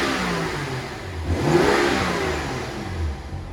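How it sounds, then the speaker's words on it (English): Inline-six N55 engine of a 2012 BMW 335i convertible revving up from idle, a smooth rising mid-range drone that swells and settles, heard close with no talking. "You can hear the engine running."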